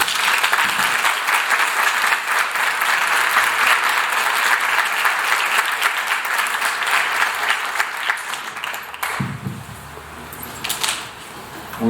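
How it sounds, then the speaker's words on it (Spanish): A conference audience gives a long, steady round of applause that thins out near the end, with a brief shuffle or knock toward the close. "Un aplauso, por favor."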